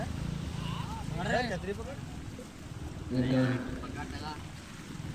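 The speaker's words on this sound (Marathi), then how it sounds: "भन्नाट असा पाऊस." Heavy monsoon downpour in Virar East, with flooded streets and shops, makes a steady, loud rushing hiss throughout, while someone talks over it in short bursts.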